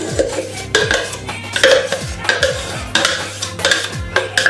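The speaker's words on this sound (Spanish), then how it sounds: "la clara espumosa y vamos a ir mezclándolo bien" Foamy egg white mixed into a soft Jijona turrón mixture in a pot. Steady, rhythmic stirring gives repeated scraping and clinking strokes, close and fairly loud, with no talking.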